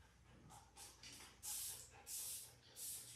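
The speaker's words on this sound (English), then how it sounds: "I'm just going to spray this leave-in conditioner all over her whole body" A spray bottle mists leave-in conditioner over a long-haired dog's coat, giving three loud, close hissing bursts in an even rhythm after some softer rustling.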